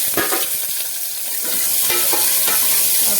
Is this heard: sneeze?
no